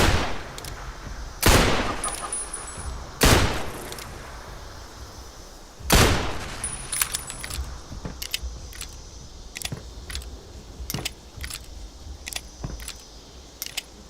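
Automated camp turrets in the Fallout 76 video game fire bursts of gunfire, with a few loud, close shots early on followed by a rapid run of sharper, lighter shots spaced about half a second apart.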